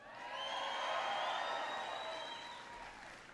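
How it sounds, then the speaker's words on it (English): A crowd at a presidential speech on homeownership applauds and cheers from a distance, faint clapping swelling then easing, with thin whistles and whoops rising above it. "Give him a big round of applause."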